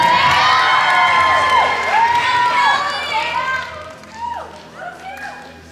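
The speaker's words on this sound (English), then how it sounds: "cheer for them so they don't feel bad standing up" A high school crowd cheering for prom queen candidates, loud shouts and whoops from many young voices with falling squeals, fading toward scattered cries near the end.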